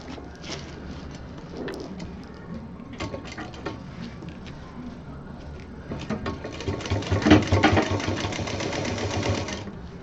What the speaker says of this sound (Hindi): पलटेंगे और सिलना शुरू करेंगे इस तरह से